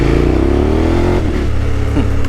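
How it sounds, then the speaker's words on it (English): A motorcycle engine revs steadily and loudly throughout, a continuous close rumble with a slight rise and fall in pitch and no talk over it. "My bike sounds so good."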